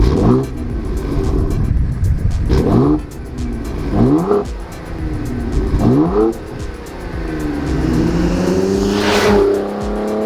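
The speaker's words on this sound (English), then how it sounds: "we have AWE's all new 3-inch full catback exhaust system here for the Explorer ST" An Explorer ST with an AWE Touring Edition 3-inch cat-back exhaust revs repeatedly, rising and falling in loud, throaty bursts from the exhaust, then a longer sustained rev near the end.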